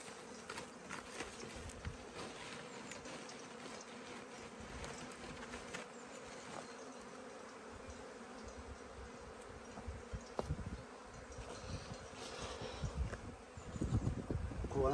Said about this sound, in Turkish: Kovana girmeye çalışıyorlar çünkü kovan zannediyorlar.